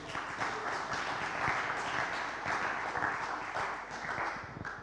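An audience at a talk on the UN Ocean Decade at MTF Aveiro 2022 claps steadily, a dense wash of many hands at moderate distance, fairly soft and continuous with no voices over it.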